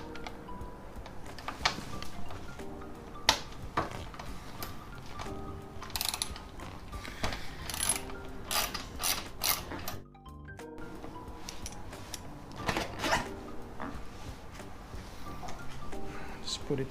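A 5 mm tool works a seat bolt loose on a Yamaha V Star 1100 motorcycle, producing repeated close ratcheting clicks and metallic clinks with short pauses between turns.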